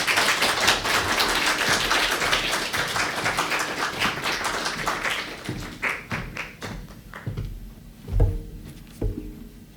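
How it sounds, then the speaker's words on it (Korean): An audience in a church claps together to welcome a speaker, dense at first, then thinning into scattered individual claps that slow and fade toward the end. "함께 박수로 우리 환영하도록 하겠습니다"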